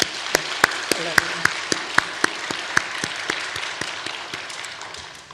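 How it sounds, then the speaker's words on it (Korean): A church congregation applauds the Michael choir after a quiet hymn, a steady wash of clapping with sharper individual claps standing out, and a voice briefly heard over it. "우리 박수 한번 쳐드립시다."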